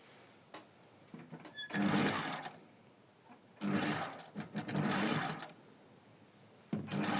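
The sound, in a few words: sewing machine stitching the first seam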